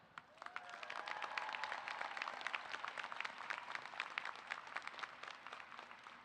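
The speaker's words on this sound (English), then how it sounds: "let's also cheer for your dedicated faculty and staff and thank them for all they have done" A commencement crowd at a university graduation ceremony claps and cheers for faculty and staff, a sustained wash of applause from a large audience that swells, holds, then slowly thins, heard from a distance.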